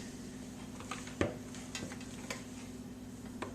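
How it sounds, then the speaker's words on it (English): A spatula scrapes cookie dough for holiday treats out of a mixing bowl, giving soft, uneven scuffs and a few sharper clinks against a steady kitchen hum. "we will scrape the dough out of here while I'm still trying to film"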